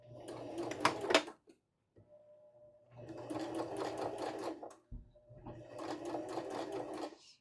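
A sewing machine stitches an abutted seam in three bursts of rapid, even whirring, separated by short pauses, close and fairly quiet.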